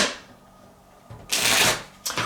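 Tarot cards riffled and shuffled in a few crisp, papery bursts, one long rush after a quieter stretch and a short one at the end, close and alone with no talk.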